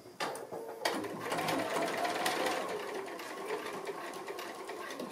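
A sewing machine stitches a small pocket on a string made from 2 1/2-inch fabric strips, running in a quiet, steady mechanical whir with light clicks of the needle over about five seconds.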